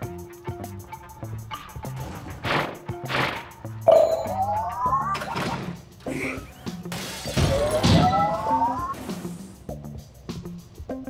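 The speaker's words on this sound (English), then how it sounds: "the breaking of this glass is a necessary evil" Glass shatters in the video game Quantum Conundrum: loud, sharp breaking crashes with tinkling shards around four and eight seconds, among other thuds and game effects, with speech nearby.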